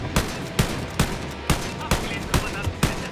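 Gunfire in Wolfenstein: Youngblood, loud, evenly spaced shots about every half second over steady game noise, with no voices.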